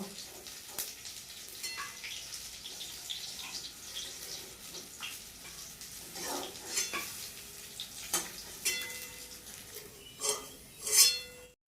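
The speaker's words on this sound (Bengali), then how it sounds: "মাছটা কিন্তু ভাজা হয়ে গেছে লাল লাল করে, এখন আমি কিন্তু তুলে নেব।" Pan-fried rohu fish, already fried red, being lifted out of a frying pan with a utensil, with a soft sizzle and clinks and scrapes of cutlery against the pan, fairly quiet, no talking.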